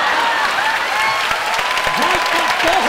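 Audience at a live comedy show on board a cruise ship claps steadily and warmly throughout, a dense near burst of applause with crowd noise and a voice mixed in.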